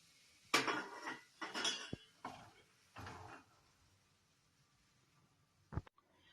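A slotted spoon scrapes and clinks against a bowl while mixing dough of flour, salt and hot oil. It comes in four short clattering bursts, then a pause and one last knock.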